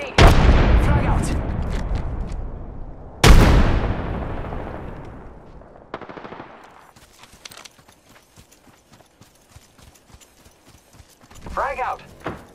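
Frag grenade blasts and gunfire in the video game Apex Legends: two loud booming explosions in the first few seconds, followed by scattered sharp shots and crackles fading out, with a burst of voice-like sound near the end.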